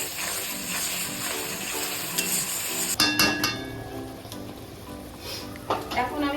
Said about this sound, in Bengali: এখন আমি পেস্ট করে রাখা মশলাটা দিয়ে দিচ্ছি মশলাটাকে আমি ভালো করে কষিয়ে নেবো